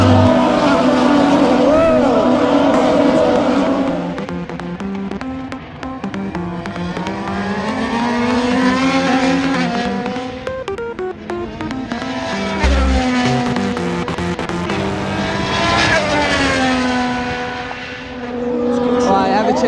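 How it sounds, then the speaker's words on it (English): IndyCar race cars at a members-only race track, engine whines rising and falling as cars pass in succession, loud and sustained over about twenty seconds, with voices talking over it. "First IndyCar race."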